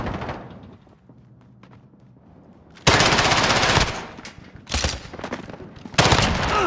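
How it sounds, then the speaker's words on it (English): Incoming cruise missile strike in Call of Duty Warzone: after a quiet stretch of low rumble, loud explosive bursts of rapid gunfire-like blasts crash in close, in several heavy bursts separated by short pauses. "Cruise missile."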